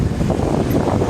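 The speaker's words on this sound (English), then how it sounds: "It's so windy." Strong winter wind outdoors near a partly frozen river in Hokkaido after snowfall, a steady loud rumbling buffet across the microphone with no pauses.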